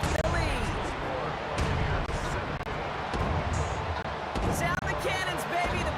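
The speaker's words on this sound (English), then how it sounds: "Sound the cannons, baby, the Buccaneers winning here in Tampa." Stadium cannons fire in Tampa after a Buccaneers football win, several heavy booms spaced a second or so apart over a roaring crowd, with a commentator talking throughout.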